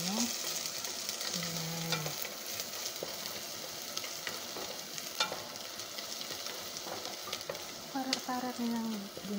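Garlic sizzling in hot olive oil in a pan for a spaghetti bolognese, a steady dense frying hiss with occasional stirring scrapes and clinks, close and continuous.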